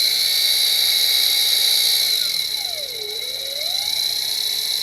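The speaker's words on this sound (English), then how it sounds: "I should be able to just easily drill a little bit out straight down till it goes in" A power drill bores straight down into a glued workpiece, its high steady whine holding, then dipping in pitch as the bit bites and loads, then rising again.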